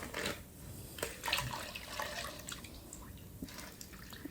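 Synthetic 28-inch wig soaking in red dye water in a sink while a brush is drawn through the hair, giving soft wet swishes and light drips close by with no talking.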